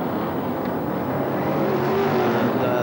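BRISCA F1 stock cars race down the straight at the 1987 World Final at Belle Vue, a dense, loud roar of several engines droning together at a distance without a break.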